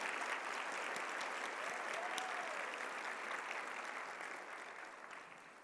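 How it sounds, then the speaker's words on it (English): Audience applause at a women's leadership event, a steady dense wash of clapping from a room of people that holds strong and then slowly thins and fades toward the end, with no talk over it. "so let's give them a huge round of applause."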